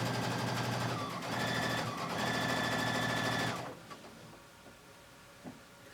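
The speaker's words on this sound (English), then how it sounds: "we are going to put our presser foot down, and we are going to start sewing." A sewing machine stitches fabric face mask pieces in a steady, loud mechanical whir for about three and a half seconds, then stops, leaving quiet room sound with a couple of small clicks.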